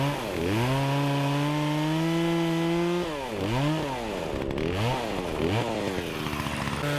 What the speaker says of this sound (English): So I fired up the chainsaw, went out there and started chopping it up.